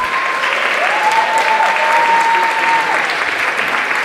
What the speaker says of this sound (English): how about I give another huge round of applause for our 6th grade?